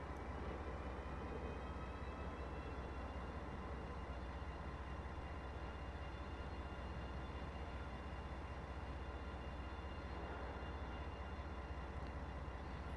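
A continuous rail rumble with a steady high whine, a BR 406 ICE 3M high-speed train in Train Sim World 2 droning on as it pulls out of a Dresden station, with no voices.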